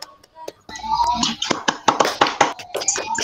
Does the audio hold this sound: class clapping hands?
yes